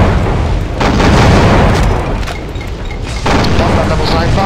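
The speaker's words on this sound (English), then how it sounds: "God damn, that's a lot of explosions." Heavy booming explosions roll through co-op play of Doom with the Brutal Doom mod, several loud blasts in quick succession filling the mix, with a player's voice talking over them.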